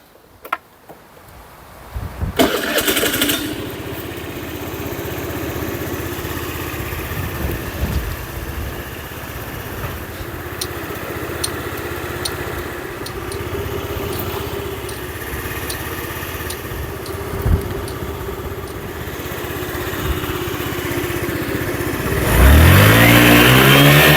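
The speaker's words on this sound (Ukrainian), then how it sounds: "Двигун працює без жодних нарікань." A fuel-injected Honda Today scooter engine sputters to life, then runs steadily with a rough idle and occasional revs, ending with a sharp rising rev near the end.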